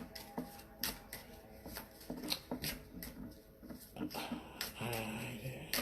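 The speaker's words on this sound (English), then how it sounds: "So we are going to shuffle some more" Tarot cards being shuffled close up, with repeated soft riffling and slapping bursts, with faint breathing and rustling in between.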